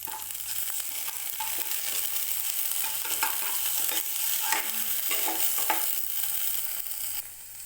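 Garlic and ginger paste frying with softened onions in a pan on low gas gives a steady, close hissing sizzle, with occasional stirring scrapes and clinks and no talk.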